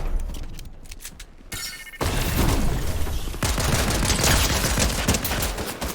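Rapid bursts of video game gunfire, rendered like Keyblade-style shots, rattle loud and dense with heavy automatic volleys and booms, continuing almost unbroken through the whole stretch.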